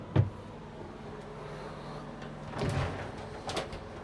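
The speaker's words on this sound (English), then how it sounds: "And then at the very bottom, another pull-out drawer as well there." A pull-out drawer in a Newmar Ventana motorhome bathroom gives a sharp close knock, then after a pause slides with a soft rumbling roll and settles with a quieter bump, all faint and close.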